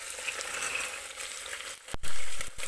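Carrot, cauliflower, potato and peas frying together for a mixed-vegetable pulao, a steady close sizzle with brief clatter near the end.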